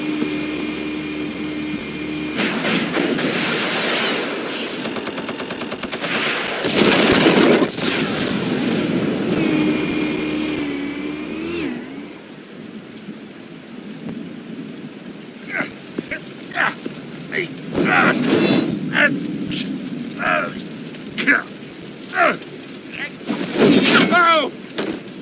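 Explosives going off in Batman: The Telltale Series, heavy blasts and booming bursts broken up by sharp later impacts, mixed with rumbling engine noise and spoken dialogue across the scene.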